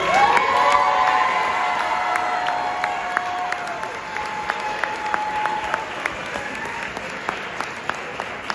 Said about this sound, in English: So can I get a round of applause for Coach Carlos?